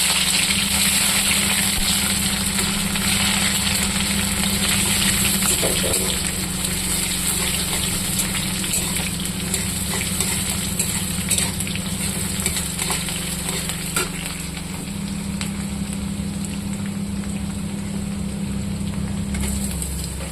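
Onion frying in oil in a pan, a continuous dense sizzle and hiss holding steady and close for the whole stretch with faint stirring underneath.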